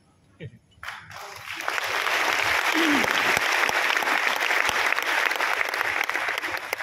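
Audience applause swells after a brief pause and holds steady for several seconds, a dense wash of many hands clapping at fairly close range, with a few isolated claps and a short voice at the start.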